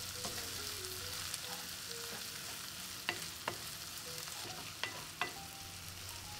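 Pork sisig fries in a pan with a constant close sizzle, punctuated by a few sharp clinks and scrapes of a utensil stirring the mix, with no voices.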